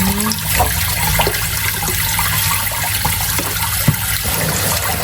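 Salted water splashes and trickles in a basin, a steady wet sloshing with a few small knocks, close by and without voices.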